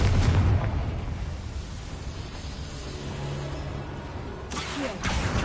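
A Confringo blasting spell explodes in Hogwarts Legacy, a booming burst at the start that decays into a sustained rumble, followed by another bright crackling blast near the end.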